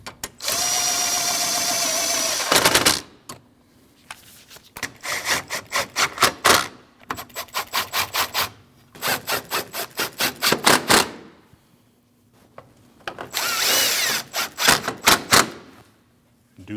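Power tool tightening the mounting bolts on the AC condenser of a 2014-2023 Jeep Cherokee, loud close bursts of rattling impact-style hammering in repeated short pulses, alternating with a sustained whirring spin and brief quiet gaps.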